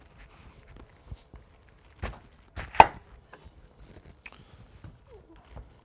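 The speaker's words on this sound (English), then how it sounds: "you get your cabbage and you need to quarter it first" A kitchen knife cutting a cabbage into quarters, a few close, crisp chops and thuds on a board with soft handling noises between, quiet overall.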